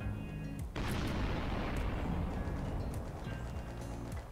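Heavy gunfire and booming explosions from a mobile sandbox shooter game, a dense continuous barrage of blasts that swells loudly after a brief lull and rumbles on without pause.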